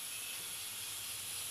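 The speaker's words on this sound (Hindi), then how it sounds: "मैं साथ वाली सीटी भी उठा रही हूँ ताकि भाप" Steam hissing out steadily from a pressure cooker after its whistle weights are lifted off, while mutton boti cooks inside; a constant, bright, close hiss with no voices.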